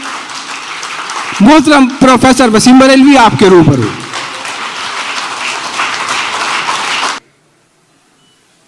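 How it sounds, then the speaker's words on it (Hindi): Audience applause welcoming the Urdu poet Professor Waseem Barelvi at a mushaira, a broad steady clatter running for several seconds under an announcer's voice, then cutting off abruptly. "जोरदार तालियों से इस्तकबाल कीजिए"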